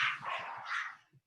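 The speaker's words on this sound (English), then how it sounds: "Sorry, my dogs are going crazy right now." Dogs bark in a quick rough run of yips and barks, fairly close and loud, fading out toward the end with no talking over them.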